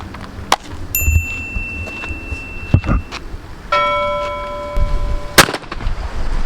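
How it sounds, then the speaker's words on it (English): A Beretta A400 Extreme Plus 12 gauge shotgun fires 3-inch Rio Royal Bluesteel shells, sharp loud blasts heard several times, with bright metallic ringing tones lingering between some of the shots. "We're shooting the 12 gauge 3-inch with the 1 1/4 ounce 3-shot."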